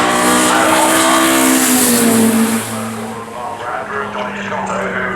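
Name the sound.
Mercedes DTM race car driving at Goodwood Festival of Speed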